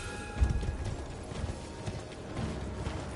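Horse hooves gallop in Elden Ring with a quick, steady clip-clop rhythm, close and moderately loud, mixed with faint mechanical game sounds.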